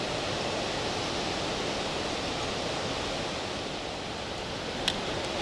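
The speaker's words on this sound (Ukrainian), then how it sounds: "Ще й дощ почався." A steady, dense hiss of rain and wind fills the air throughout, loud and unbroken, with a faint click near the end.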